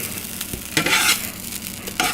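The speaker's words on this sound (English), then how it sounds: "And if it sizzles, you're probably ready to stick your pancakes in" A hot pan sizzles softly and steadily nearby, with a louder crackling burst as sweet potato and corn pancake batter drops in, then scraping and stirring sounds.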